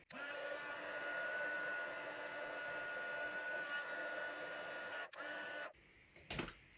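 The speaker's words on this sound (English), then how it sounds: "And then I'm going to grab my heat tool." A heat tool blows hot air steadily over embossing powder on cardstock for card making, a loud continuous whirring hiss that cuts out briefly near the end, then sputters back on.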